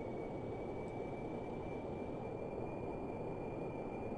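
Jet engines on a rocket in Kerbal Space Program roar as a steady, loud broadband rush with a thin high whine held throughout, continuous and unbroken, with no talking over it.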